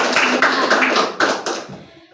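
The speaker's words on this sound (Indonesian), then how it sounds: "beri aplaus lah dulu." An audience at a school group guidance session bursts into a short round of brisk hand clapping, close and lively, tapering off after about two seconds.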